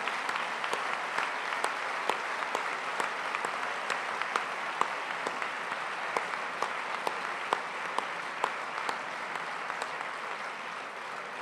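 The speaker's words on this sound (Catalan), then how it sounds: "jo us demano, primer de tot, un fort aplaudiment" Sustained audience applause at a solidarity concert for political prisoners, an even, full roar of many hands with occasional sharper claps poking through, steady and unbroken across the whole stretch.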